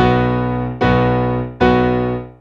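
A piano sounds three chords struck at an even pace, each ringing out and slowly fading before the next, with no talking.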